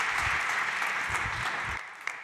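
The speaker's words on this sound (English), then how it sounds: "My dear friends, big round of applause, please, for Xavi Guerrero from India." An audience at a sports tech startup competition claps loudly in a dense burst of applause that fades near the end, with no one speaking.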